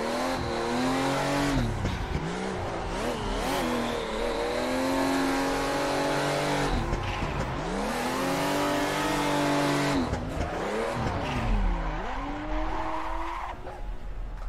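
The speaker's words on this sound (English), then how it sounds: "Hear the turbo popping off in this car, I believe." Drifting car in the Assetto Corsa racing game, engine revving up and down in repeated sweeps with tyre squeal through slides, with turbo blow-off pops between gear changes and throttle lifts.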